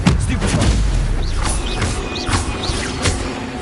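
Incendio fire spell blasts in the video game Hogwarts Legacy, cast during a fight with spiders: loud, dense crackling bursts and booming impacts with faint whooshing chirps repeating over a roaring background, no talking.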